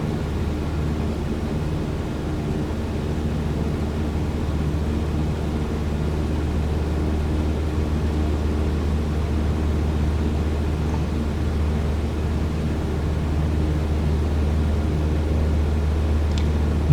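Steady, droning hum of a Cessna light aircraft engine in Microsoft Flight Simulator 2020, continuous and even throughout, with no talk over it.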